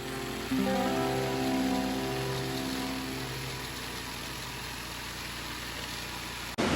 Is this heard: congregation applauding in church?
no